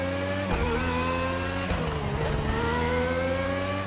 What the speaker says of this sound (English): It is cool hearing the other engines as you go through part of the curves.